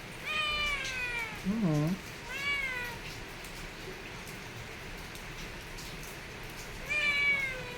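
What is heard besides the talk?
kitten meowing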